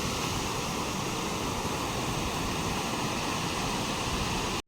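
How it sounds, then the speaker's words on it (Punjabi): Fast-flowing river water rushes past near a small bridge, a steady, dense roar of churning water that holds constant throughout without any voices. "ਪਾਣੀ ਦੀ ਸਪੀਡ ਦੇਖੋ ਤੁਸੀਂ"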